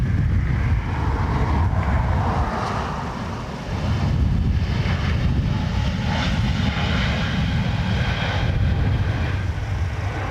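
A Qatar Airways A350 at Dublin Airport roars with a loud, sustained jet engine drone on a windy day, the steady rumble mixed with wind buffeting the microphone.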